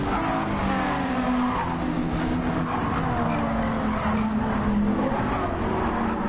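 A Mercedes Gr.4 race car in Gran Turismo 7 works through tight, twisty corners at a Switzerland circuit, its engine droning steadily while the tires squeal and skid almost continuously at close range, with no voices.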